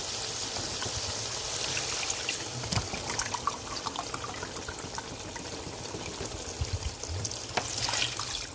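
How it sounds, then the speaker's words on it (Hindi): Water poured into a pot of fried mutton for stew, a continuous splashing trickle with faint clinks of the pot, close and moderately quiet throughout. "अब मैं इसमें पानी डाल रही हूँ"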